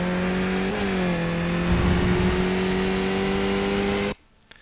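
Race car engine in iRacing, a Skip Barber car at the Daytona moto track, droning loudly and steadily as it pulls up through third gear, pitch rising slightly, then cutting off abruptly near the end.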